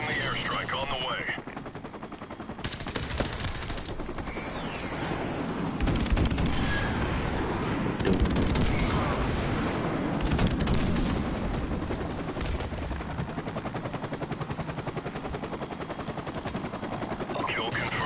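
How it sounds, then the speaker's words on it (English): Dense, continuous game battle in Modern Warfare Remastered, with rapid machine-gun fire and booming airstrike explosions layered throughout, loud and close, while a player talks over it. "Friendly airstrike on the way."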